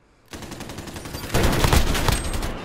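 Rapid automatic gunfire in Call of Duty Modern Warfare, a loud close burst that starts abruptly and intensifies midway into a dense fusillade of shots.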